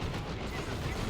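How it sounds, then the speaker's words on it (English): Sniper-style ranger shot in the Dawn of War 2 strategy game, a dense burst of gunfire and explosive battle noise filling the whole second with no quiet gap. "Took a ranger shot there."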